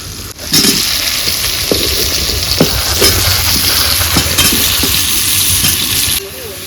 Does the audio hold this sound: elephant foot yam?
yes